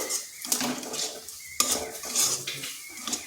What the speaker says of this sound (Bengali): তিন চামচ দুধ আবার চিনির সাথে সুজির সাথে ভালো করে মিশিয়ে নিচ্ছি